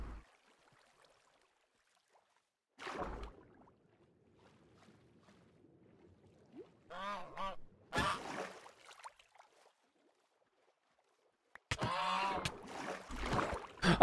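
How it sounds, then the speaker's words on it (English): A goose in the Minecraft modpack MenaceCraft: Rebirth honks in short bursts, with a few scattered honks spread across a quiet game scene and a louder cluster near the end. "I legit thought the goose was attacking me."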